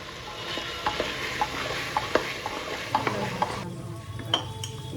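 Chickpeas sautéing for ghugni, a spoon scraping and stirring them in a pan in a steady rhythm over a constant sizzle, close and fairly loud.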